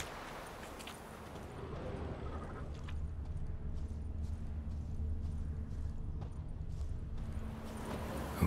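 Horse hooves clip-clopping at a steady pace in the Witcher 3 video game, a faint and continuous rhythmic trot under a low ambient rumble, with no voices.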